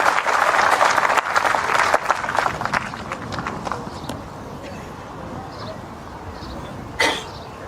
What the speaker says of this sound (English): Dave Edwards is applauding